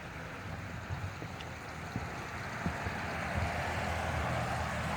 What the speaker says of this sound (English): See another little waterfall that comes from the main pond.